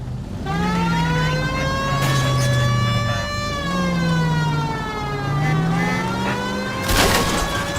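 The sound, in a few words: police car siren in video game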